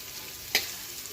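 Onions frying in a pan give a constant close sizzle, broken midway by one brief scraping stir, with no talking.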